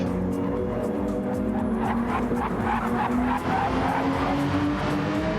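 A race car in a video game sim takes a fast lap around Laguna Seca, its engine droning steadily with rising pitch while tires squeal and skid through corners, loud and continuous with no talk.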